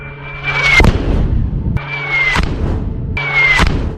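Upgraded Sadid bombs dropped from a Gaza drone strike designated targets: three evenly spaced, loud blasts, each preceded by a short falling whistle, with rumbling debris between them.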